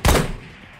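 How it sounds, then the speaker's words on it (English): A single sharp gunshot from a video game shooter, loud and close, with a brief blast followed by a short fading tail. "We pushed off the sound of the shots."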